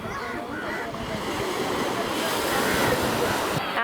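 Surf rolling onto a beach in India, a steady wide wash of breaking waves with some wind, continuous and fairly loud throughout, with faint voices of people on the shore mixed in.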